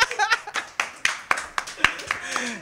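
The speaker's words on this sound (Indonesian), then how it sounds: "Kita tepuk tangannya dong." An audience at a music event claps in a loose, rhythmic series of sharp claps, some louder than others, with talking and a few chuckles mixed in.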